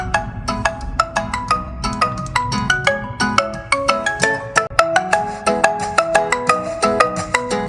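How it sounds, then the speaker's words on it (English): A melodic ringtone plays through the Bose speakers of a POCO F8 Ultra phone, bright repeating plucked notes in a quick rhythmic pattern, loud and clear. "let's play some ringtones and let's see how good it is"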